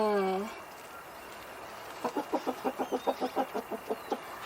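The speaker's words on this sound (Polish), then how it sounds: "Wołaj kogut, kury, wołaj" A brief voice, then a rooster gives a rapid, even run of about a dozen clucking calls, close and clear.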